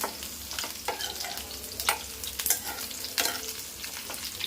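Drumstick pieces fry in hot oil on the way to a golden colour, a steady crackling sizzle with sharper pops and scraping stirs breaking through at intervals, close and continuous with no one talking.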